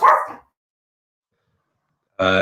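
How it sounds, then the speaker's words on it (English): A dog gives a single short bark close by, followed by silence and then another brief vocal burst. "Sorry, Ted is just barking there"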